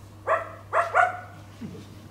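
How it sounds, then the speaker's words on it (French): A stray dog gives three short whimpering yelps in quick succession, fairly close and clear, followed by a fainter low whine, with a steady low hum underneath. "Un chien errant tourne autour et, s'approchant du jeune homme, pose une patte sur lui."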